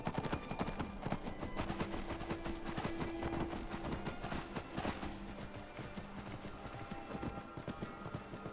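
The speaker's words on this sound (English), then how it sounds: "there's my horse. Come here, you." Horse hooves clopping at a gallop in the video game Skyrim, a steady rapid rhythm of thuds running close and loud throughout, with game music and effects layered underneath.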